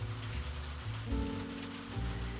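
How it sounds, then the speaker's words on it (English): Soft steady rain falls against studio windows in Havenport, an even hushed wash under a low sustained musical drone, no voices. "Outside, the rain falls softly, a steady rhythm against the windows of our studio here in Havenport. Can you hear it?"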